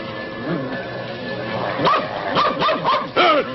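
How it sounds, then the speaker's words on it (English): A dog barks several times in quick bursts, mixed with high yelping cries and a person's excited voice, fairly close and loud. "Oh, you horrible dog!"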